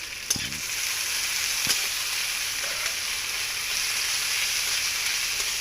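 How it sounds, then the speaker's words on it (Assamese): Onions and dried fish fry in hot oil with a dense, even sizzle, and a couple of sharp utensil knocks come near the start, no voices. "পিঁয়াজৰ লগতে মই এই শুকান মাছখিনিও দি দিম।"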